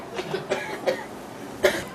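Several short, rough coughs in quick succession, close and fairly loud, with no talking.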